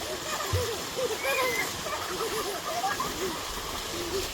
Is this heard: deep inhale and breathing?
no